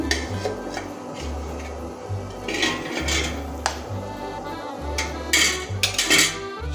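A spoon scrapes and clinks against a pan while curry with garam masala paste is stirred, close repeated metallic taps and rubbing over a low bubbling simmer, no voices.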